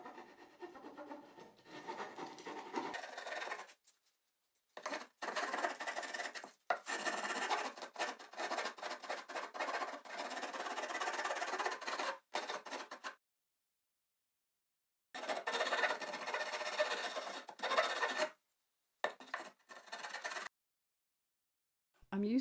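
A hand file rasps along the wooden hand grip of a trug in a series of steady rubbing strokes, grouped into several bursts separated by short silent pauses, close and fairly quiet, with no voices.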